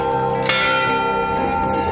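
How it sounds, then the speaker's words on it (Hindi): A single metallic Hindu temple bell is struck and rings out with a long, shimmering decay, followed by a softer second strike. "मंदिर में घंटी बजाना।"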